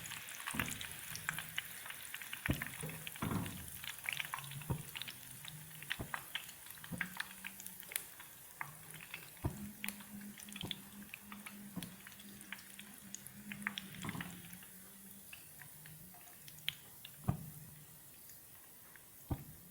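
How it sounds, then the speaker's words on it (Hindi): Chicken veg sticks fry in a pan with a soft, low, continuous sizzle, dotted with occasional pops and light clicks of handling, fairly quiet throughout. "सारे इसी तरह फ्राई कर लेंगे।"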